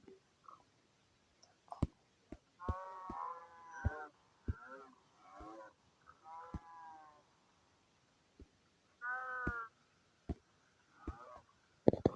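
Several voices take turns imitating cows, drawn-out lowing moos between short breaks, with scattered clicks and knocks in a quiet room.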